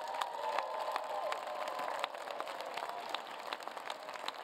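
Graduates at a University of Maryland winter commencement cheering and clapping, a dense wash of scattered applause and distant crowd cheers in a large hall, fairly faint and steady.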